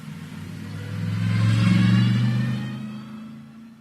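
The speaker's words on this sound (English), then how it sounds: "we can hear the cars going out of the pit lane here, Dan, as the excitement builds." Race cars pull out of the pit lane at the Kyalami 9 Hour endurance race, a deep engine rumble swelling as they pass close by and then fading away over a few seconds.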